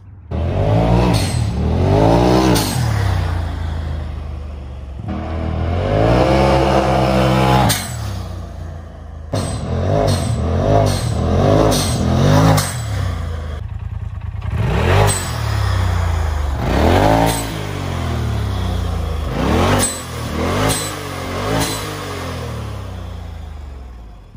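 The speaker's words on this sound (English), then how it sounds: "People need to hear the blow-off valve." A Polaris RZR XP Pro side-by-side engine revs hard and repeatedly up close, each rise followed by a hissing release from an RPM blow-off valve, with no talking.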